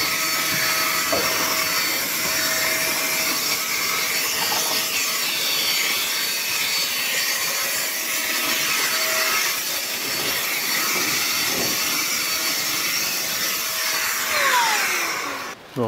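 A multi-purpose electric blower runs steadily with a loud, continuous rushing whoosh that holds level throughout and cuts off at the end.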